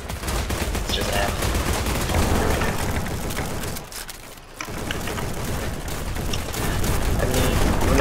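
Double-barrel shotgun fire in the Battledudes video game: a continuous dense barrage of shots and booms, loud throughout, with a brief lull midway.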